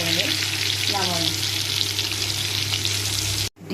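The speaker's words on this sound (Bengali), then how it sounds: "ওই তেলেই আমি সিদ্ধ করা আলু রাখছিলাম, এগুলারে কড়াইতে একটা একটা করে খাইয়ে দিয়েছি।" Boiled potatoes frying in hot oil in a wok, giving a loud, steady, close sizzle that runs without a break before cutting off abruptly at the end.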